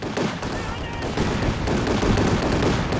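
Sustained machine gun fire from a Company of Heroes 2 battle on a Rhine map, dense rattling bursts running continuously at steady loudness with no speech over it.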